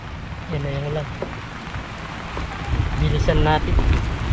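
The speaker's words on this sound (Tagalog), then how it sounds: "Yan na yung ulan." Rain falls steadily outdoors among plants, a constant wash of noise with brief tonal voice-like sounds rising over it.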